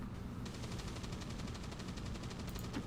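Rapid gunfire in the video game XCOM 2, a quick rattling burst of repeated shots that runs steadily over a low rumbling game background.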